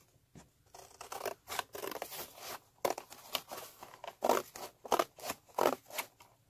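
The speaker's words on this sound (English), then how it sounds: "So I'm just going to take my scissors and trim that away." Scissors snip and trim a flat strip of paper in a quiet room, a series of close, crisp cuts coming in quick irregular bursts with short pauses between, no voices.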